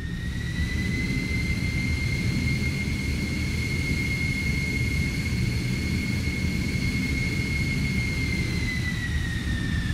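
Inside a China Eastern Airlines jet flying across China, a steady, loud cabin roar carries a constant high whine throughout, with no talk.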